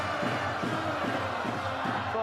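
Wigan supporters cheer in a packed stadium during a 2012 rugby league match against Leeds, a broad, steady crowd roar beneath a commentator's voice.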